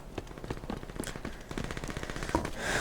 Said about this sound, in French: ça envoie de la foudre, mais il faut un temps de chargement quand même avant de